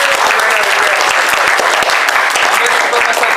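Loud, dense applause from a comedy improv audience, steady clapping filling the room throughout.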